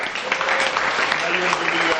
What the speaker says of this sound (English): please stand up and get a round of applause